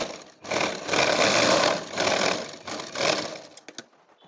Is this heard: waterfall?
no